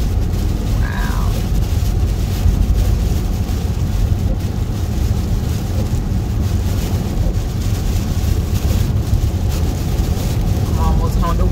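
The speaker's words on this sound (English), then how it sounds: "The wind is blowing so hard." Strong wind blows hard near Tampa, a loud continuous roar and buffeting across the microphone that lasts the whole stretch and rises and falls slightly in force.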